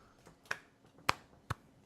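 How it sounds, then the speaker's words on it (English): Three sharp, separate claps ring out about half a second apart, crisp and fairly quiet, against low background noise with no talking. "That's me clapping."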